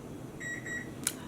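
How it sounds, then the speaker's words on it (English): A kitchen-style timer gives two short electronic beeps in quick succession, followed by a brief higher chirp, fairly clear over a quiet room. "there's the timer on that yarn."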